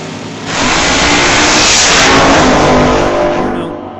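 A drag racing car launches on a single pass down the left side of the track at an old-time drag event, a loud engine roar swelling in and holding before fading away.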